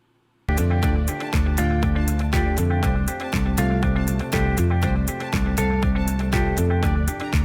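Upbeat royalty-free instrumental music played through a Donner CV-1 Bluetooth receiver starts after a brief silence and plays steadily, with a punchy beat, bass line and bright melodic layers.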